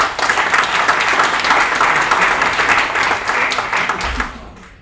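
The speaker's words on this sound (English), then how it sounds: "please give him a round of applause" Sustained applause from a crowd, steady and fairly loud, with many hands clapping together before it fades out at the end.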